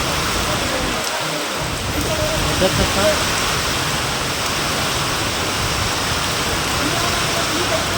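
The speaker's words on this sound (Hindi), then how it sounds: "एकदम हवा तूफान के साथ बारिश हुआ था" Heavy rain driven by strong wind pours down outdoors, a loud, steady hiss of rainfall throughout, with a voice briefly speaking over it.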